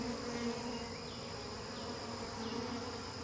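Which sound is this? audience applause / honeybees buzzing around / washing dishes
honeybees buzzing around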